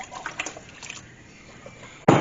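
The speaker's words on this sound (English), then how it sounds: "Then you're going to want to pour in 2 cups of milk." Two cups of milk are poured into potato soup, giving a soft, faint liquid trickle and a few small splashes, followed at the end by a louder, brief slosh.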